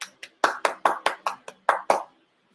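Applause for a student named Ellie in an online class comes as about ten distinct, close handclaps in a quick, slightly uneven rhythm before falling silent.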